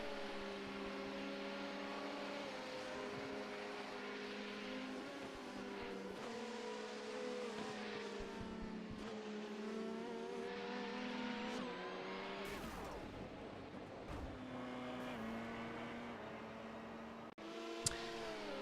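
An LMP1 race car in the iRacing video game laps Silverstone with a steady, droning engine note that shifts pitch through gear changes. It plays alone at a fairly low level, and a sharp click comes near the end.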